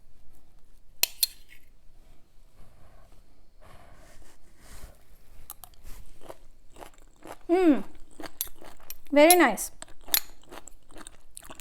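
Close-up crunching bites and chewing of crisp cooked okra, with a few brief spoken words and appreciative murmurs between mouthfuls.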